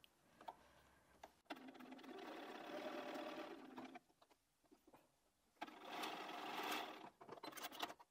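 A sewing machine stitches binding onto a cushion in two sustained runs separated by a quiet pause, soft and close, with light handling clicks around the stitching.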